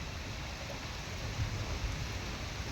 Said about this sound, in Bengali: আর দেখো কত বৃষ্টি হচ্ছে।